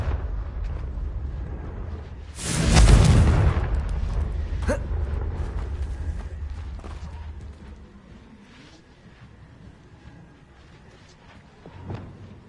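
A Confringo fire spell explodes in Hogwarts Legacy with a loud booming blast that swells and then rumbles away over several seconds, followed by a sharp crack and a fainter thud later on, all under a steady game ambience.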